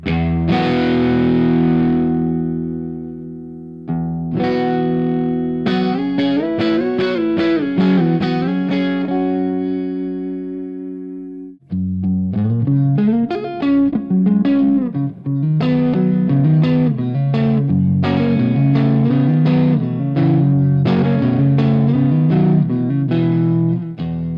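Electric guitar through a rebuilt amp with the guitar volume rolled off, played continuously with sustained chords and picked phrases, clean yet slightly driven, loud and close.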